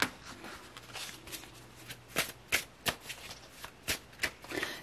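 Tarot cards are shuffled and drawn in a quiet room, a run of crisp, papery riffles and slaps coming in uneven bursts, close and fairly soft.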